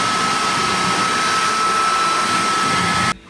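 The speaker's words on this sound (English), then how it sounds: "Now we're going to dry it out using the tank dryer." A tank dryer blows a steady, loud rush of air into a cleaned-out gas tank, with a constant tonal hum on top, running alone until it cuts off abruptly near the end.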